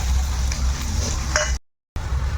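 Mustard seeds, cumin, crushed garlic and dry chillies sizzle in hot oil with a close, bright hiss and light stirring scrapes, cut by a brief silent gap before the sizzle resumes.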